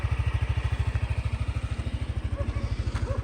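A 2016 Yamaha NMax 125 scooter idling close by after starting, with a steady, even low putter at a quick regular pulse and faint clatter above it.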